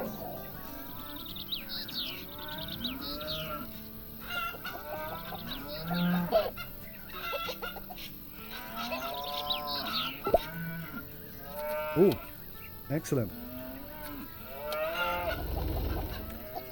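Cattle and farmyard birds in Farm Manager 2018 moo and honk in overlapping, uneven calls across a busy farm scene, moderately loud, with a brief spoken remark near the end.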